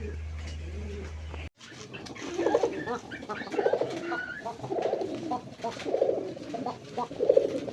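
Pigeons for sale at a bird market coo in repeated soft, rounded phrases, with several birds calling close by over a steady background murmur after a brief low hum cuts out.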